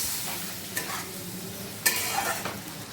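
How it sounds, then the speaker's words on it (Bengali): Cold water goes into a pan of sizzling mushroom masala, producing a soft bubbling sizzle with a sharp hiss burst near the middle and light stirring noise, close and fairly quiet. "এবার আমি সেদ্ধ হওয়ার জন্য জল দিয়ে দিচ্ছি এর মধ্যে"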